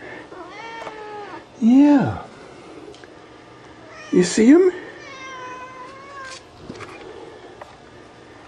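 Cats meow loudly twice, a drawn-out cry and later a shorter one, while looking at an opossum through a window, with someone talking softly between the calls.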